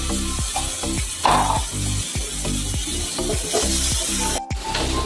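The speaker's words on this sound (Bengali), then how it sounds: "দেখো আমার সবজিগুলো অনেকটাই ভাজা হয়ে এসছে" Vegetables sizzle and fry steadily in a pan, with a rhythmic scraping of a spatula stirring through them, close and fairly loud.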